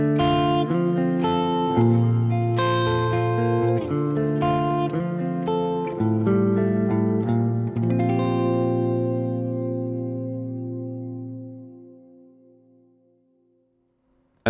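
Electric guitar through an Archetype Plini X amp plugin, reverb space set halfway, plays a rippling phrase of picked chords, then a final chord sustains and fades slowly into a long reverb tail.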